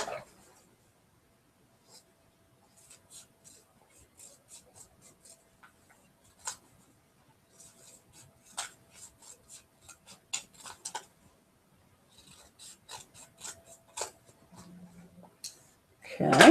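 Scissors cut quilting fabric in quiet, sparse snips and light ticks close by, scattered through near silence, with a short burst of handling noise at the very end.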